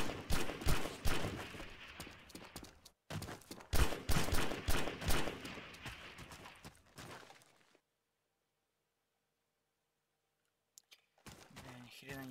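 Gunfire comes from a cliff in a war video game, with dense bursts of loud close shots and thuds, then a sudden silence broken by a few faint clicks before the shooting starts again.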